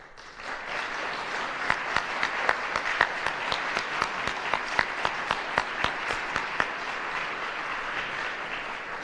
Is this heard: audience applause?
yes